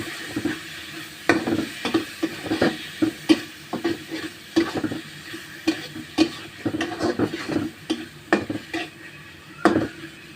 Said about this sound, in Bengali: টমেটো দিয়ে ভালোভাবে কষাই নিব।